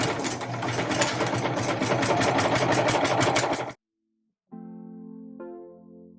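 A sewing machine stitching fabric to a backing runs in a fast, loud, steady rhythmic whir for nearly four seconds, then stops; a brief silence follows before a sustained tonal sound with a rising tone.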